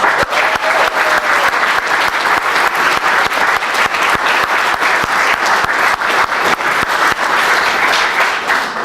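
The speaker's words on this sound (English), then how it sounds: "They deserve a round of applause" An audience at a town honorary firefighter ceremony breaks into loud, sustained applause, dense overlapping hand claps from a crowd filling the room at steady intensity throughout.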